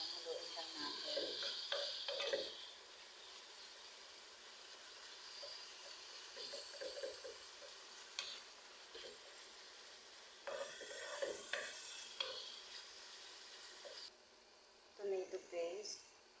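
Minced beef is stirred in a pan for macarona bechamel, giving faint bursts of sizzling and scraping in uneven spurts with quiet gaps between them.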